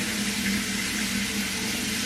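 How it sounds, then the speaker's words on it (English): A bathroom tap runs in a steady, even stream while someone rinses their face, with no pauses and no voices. "I can turn my water off"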